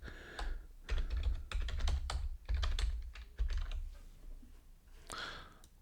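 A website address is typed on a computer keyboard in quick bursts of crisp clacking keystrokes, with short pauses between runs, close and clear with no talking.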